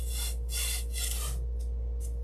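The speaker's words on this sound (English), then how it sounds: "sand it to shape" Wood being sanded by hand to shape, several rhythmic back-and-forth rasping strokes close up over a constant low hum.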